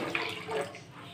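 Water is poured into a pot of cubed potatoes, about a quarter kilo, for an aloo tarkari, giving a short, close splashing rush that fades after about a second.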